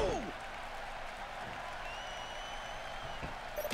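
Video game arena crowd in WWE 2K16 applauding, a steady wash of clapping and cheering that runs through the clip at moderate level, with a voice speaking briefly over it.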